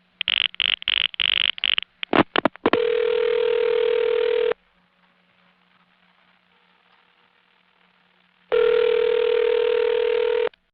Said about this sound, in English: That lets you hear the outpulsing.